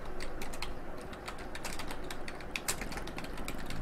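A street address typed into an online form on a computer keyboard, a quick, dense run of light key clicks that is steady and close, with no talking.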